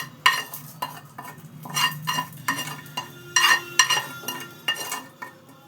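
Fried tempering is stirred into sago raita with a spoon against a bowl, making repeated close scraping clinks and taps in an uneven rhythm, with a faint sizzle beneath.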